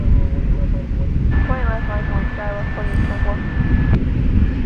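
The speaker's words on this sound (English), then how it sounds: "There's Spirit Flight 275 is going to Oakland. It's an Airbus A320neo." An Airbus A320neo, Spirit Flight 275, takes off at DFW Airport with a loud, steady jet roar and wind rumble that fills the whole stretch, as a voice speaks faintly over it.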